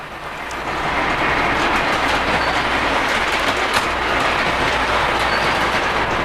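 A Polar Express Elf work model train runs steadily across a layout, its wheels giving a continuous rolling rumble with faint clickety-clack at close range, starting slightly quieter and then holding level.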